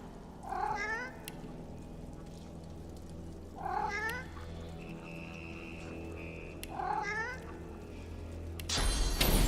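Undead cat in the fantasy role-playing game Divinity Original Sin II giving three separate drawn-out meows at even intervals, close and clear over a quiet ambient backdrop, followed by a brief burst of noise at the end.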